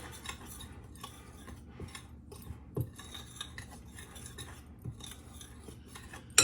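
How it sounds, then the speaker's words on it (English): Cheese curd batter ingredients get mixed together in a bowl: a steady run of scraping, clinking utensil strokes against the bowl, close and moderately loud, with a sharper knock near the end. "So mix that all together."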